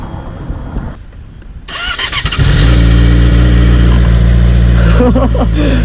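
A Yamaha R6 motorcycle engine cranks and fires up, then settles into a loud, steady idle close by, with brief throttle blips near the end.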